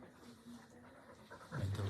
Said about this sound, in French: Viens mon chien.